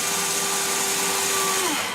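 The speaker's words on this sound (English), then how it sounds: "Now if you notice when you drill through this one, it's going to tie this arm" A power drill bores through the arm of a 200-size mini quadcopter frame, its motor whining steadily and close before spinning down at the end, with no talking.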